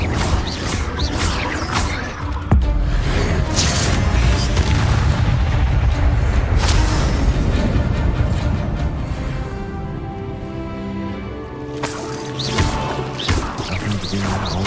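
An Incendio fire spell cast in a fantasy video game bursts out with a loud crash and roaring whoosh, a sustained fiery rumble that swells, fades, then flares again near the end.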